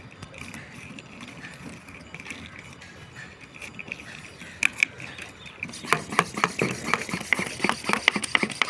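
Rhythmic mechanical clicking and creaking of a hand pressure sprayer's pump being worked, the strokes growing quicker and louder toward the end, close by.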